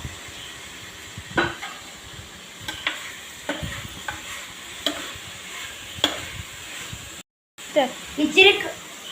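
Chopped tomatoes stirred into a sizzling pan of softened onions for beef curry, a soft continuous sizzle broken by repeated scraping strokes of a spoon against the pan, close by, with a brief silent gap near the end.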